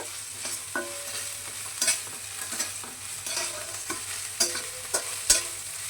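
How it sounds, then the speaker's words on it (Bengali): Onions frying with sugar, ginger paste and chopped green chilli in a pan, giving a soft, steady sizzle broken by repeated scrapes and clinks of a spoon stirring, close and fairly quiet with no talking. "ভালো করে ভাজতে হবে পেঁয়াজের গন্ধটা যাওয়া পর্যন্ত।"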